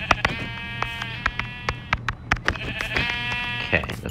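Repeated sheep bleats from the Minecraft video game, short harmonic calls spaced through the clip, fairly close and clear, with game clicks and background tones between them and no talking over them.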